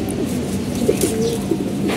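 Several pigeons, three or four perched together, coo in soft low rolling calls against a steady background murmur.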